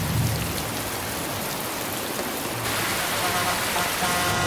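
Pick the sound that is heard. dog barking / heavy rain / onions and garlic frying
heavy rain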